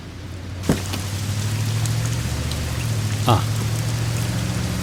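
Steady, fairly loud rain falls throughout, a dense even hiss with a low hum underneath and a couple of brief louder knocks.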